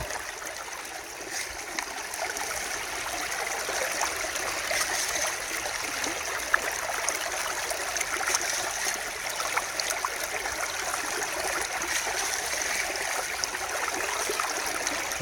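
Fast water rushes through a gold prospecting sluice at Warrandyte in a steady, unbroken wash of close, even noise with no voices.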